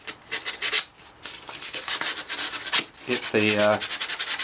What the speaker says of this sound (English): You might want to take a bit of sandpaper and just